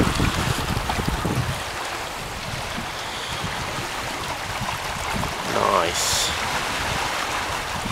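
A Tiki 21 catamaran runs wing and wing at about 5 knots, with wind buffeting the microphone and water rushing steadily along the hulls, a broad continuous wash throughout.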